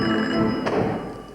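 A telephone rings briefly and loudly indoors during a stage comedy drama, one short electronic ring burst that fades out.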